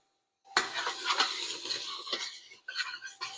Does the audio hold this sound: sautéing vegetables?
yes